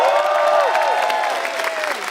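Applause in a tribute to Indonesia's gold medal tally at the SEA Games, with brief clapping mixed under a bright, descending tonal sound and possible crowd noise.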